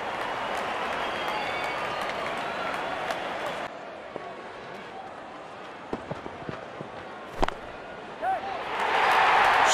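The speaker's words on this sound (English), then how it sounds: "Crowd on their feet to cheer the moment." Crowd in the Real Cricket 22 video game, during a Pakistan versus Sri Lanka Test match, roars and applauds as a broad wash of noise. It fades to quieter background, then swells again loudly near the end.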